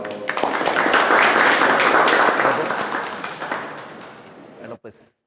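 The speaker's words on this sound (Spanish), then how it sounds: "Démosle un fuerte aplauso, por favor." An audience at a Spanish-language science lecture on Jupiter's atmosphere claps loudly in a dense, sustained burst that thins and fades out after a few seconds, with a voice speaking over it.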